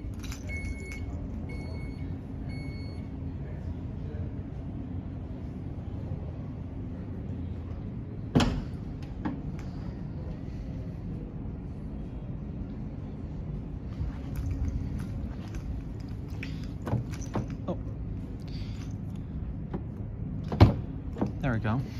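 The power liftgate of a 2023 Dodge Durango GT closes at the press of a button, giving a low steady motor hum that ends in a sharp latch thunk, with someone talking nearby.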